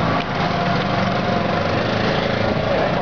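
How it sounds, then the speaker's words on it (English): A motorbike engine runs steadily and loudly, a buzzy, rough drone that holds at an even level throughout with no talk over it. "Ghost Rider bike."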